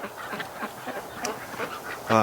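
Ducks on a farm in severe winter cold, near a hay dispenser, quack intermittently at close range. A person talks softly among the calls.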